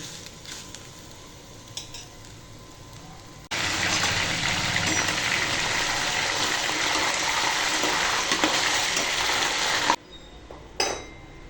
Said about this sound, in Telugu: దీన్ని డీప్ ఫ్రై చేసుకుందాం.